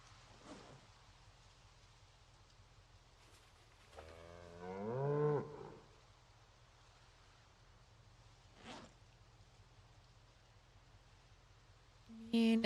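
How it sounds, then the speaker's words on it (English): A cow in the Project Zomboid video game lets out one loud, drawn-out moo lasting about two seconds, with steady rain falling throughout and a few faint thumps around it. "We have a loud ass cow."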